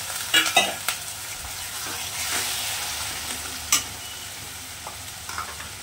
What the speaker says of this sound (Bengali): এরপর সামান্য পরিমাণ জল দিচ্ছি।